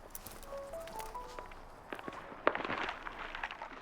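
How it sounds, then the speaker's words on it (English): Frantic footsteps come over a phone line, a faint, thin patter of rapid steps that grows busier and more cluttered toward the end, with a sharp thump midway. "He hears the sound of frantic footsteps and loud thumping noises before the line goes silent."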